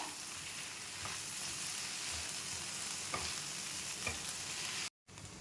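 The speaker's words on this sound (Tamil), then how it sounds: "கருவேப்பிலை போட்டுக்கோங்க கொஞ்சம். நல்லா வணங்கட்டும்." Curry leaves and dried red chillies frying in oil for tomato chutney, a steady soft sizzle with a few light stirring clicks, close and continuous with no talk.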